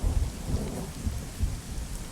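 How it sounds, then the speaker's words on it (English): Thunder rumbles through a rainy storm in the military video game Arma, low rolling booms over a steady wash of rain, continuous and fairly loud with no voices. "Thank you, Arma, for actually getting thunder correct in this game"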